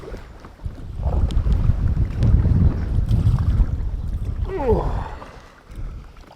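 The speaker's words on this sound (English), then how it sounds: "It's definitely breezy." Breezy wind while kayaking on the River Ouse between Bishopthorpe and York, buffeting the microphone in a continuous low rumble with gusts rising and falling, joined by faint water and paddle sounds.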